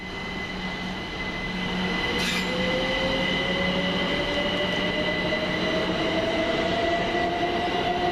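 A Govia Thameslink Class 387 electric train at East Croydon station passes close by, its steady rolling rumble and rising wheel whine carrying throughout, with a brief hiss partway through and no talk.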